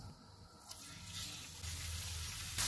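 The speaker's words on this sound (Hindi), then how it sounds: "हाफ टेबल स्पून ऑयल लेंगे, इसमें 200 ग्राम बीफ का कीमा डालेंगे" Beef mince hits a little hot oil in a pan and gives off a quiet, continuous sizzle that grows slightly louder toward the end, with no talking.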